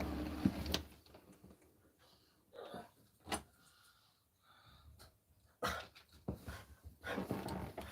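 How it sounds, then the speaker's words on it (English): A dog barks in a few sharp, loud bursts spaced several seconds apart, with quieter panting and shuffling in between. "Who are you barking at?"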